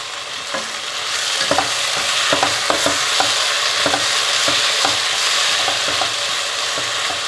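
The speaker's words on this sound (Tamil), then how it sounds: "தக்காளி நல்லா வதங்கணும்" Tomatoes and green chillies sauté in a pan over ginger-garlic paste, a loud steady sizzle broken by repeated scraping stirs of a spatula against the pan, close up with no talking.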